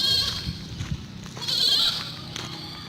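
A goat bleats at a livestock market, giving a few nasal cries, one clearly longer, over low background murmur and shuffling.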